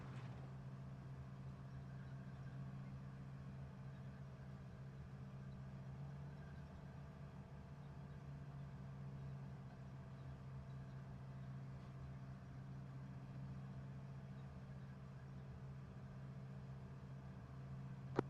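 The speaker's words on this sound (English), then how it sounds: "Affirm, it is idling close by us." A vehicle engine idles close by, a steady low rumble with even harmonic drone that holds unchanged from start to finish, with no talk over it.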